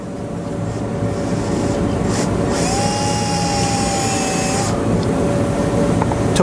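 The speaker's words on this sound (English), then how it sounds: "I'm going to take a drill bit and try to give me a" A drill bit grinds into a cylinder head part of a 5.3L engine, a high, shrill whine holding steady for about two seconds over a loud constant background hum.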